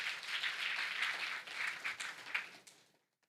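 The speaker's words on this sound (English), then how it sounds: "he deserves a round of applause for 16-year-old entrepreneur" Applause at a national budget forum, a soft, fairly distant patter of clapping that swells and thins in waves before stopping into silence.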